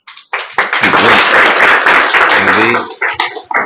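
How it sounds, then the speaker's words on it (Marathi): Students clap together in a burst of dense, loud applause that swells quickly, holds for a few seconds and trails off into scattered claps. "मुलांनी टाळ्या वाजवल्या"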